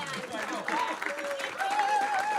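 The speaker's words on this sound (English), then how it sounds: "Keep clapping, keep clapping." Audience applause at a Disrupt HR event in Columbus, Ohio, a steady wash of clapping throughout with a few people talking and cheering over it.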